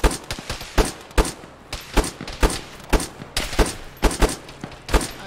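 Loud rapid gunfire bursts from a military video game, with volley after volley of sharp shots repeating densely and without pause and no talking.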